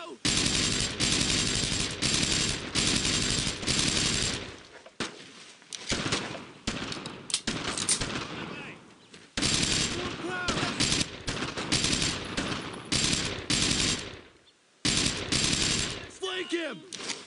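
Loud, sustained rifle and machine-gun fire from the World War II shooter Brothers In Arms: Road To Hill 30, in heavy stretches cut by short silent breaks, with shouting voices mixed into the battle.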